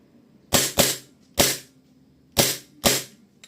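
WE G17 airsoft gas pistol firing five shots in an uneven sequence: a quick pair, a single, then another close pair, each a loud, sharp pop with a short gassy tail against a quiet background.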